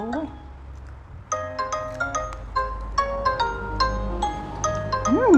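An incoming call on a mobile phone rings with a bright repeating melodic ringtone, its chimes and tones pulsing steadily for several seconds at close range.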